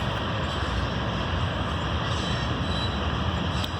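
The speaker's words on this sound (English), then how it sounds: "Did I say this was a long train? This is a long train." A long freight train rolls past in Dodge Center, Minnesota, its loud steady rumble and clatter of railcars filling the air close by, with a faint squeal of wheels and no talk.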